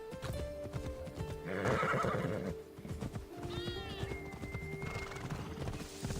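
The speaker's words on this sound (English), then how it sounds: "I can take my own horse, which is on fire." Horse hooves clip-clop steadily in Assassin's Creed Odyssey, with a loud whinnying neigh around the middle of the stretch and a few shorter whinny calls later, all fairly close and continuous over a busy game soundscape.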